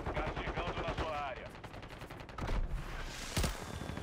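Gunfire in Call of Duty: Warzone 3, a few sharp shots and bursts ringing out among in-game noise, with voices talking over parts of it.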